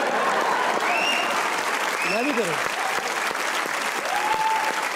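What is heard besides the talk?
audience applause for Babar Azam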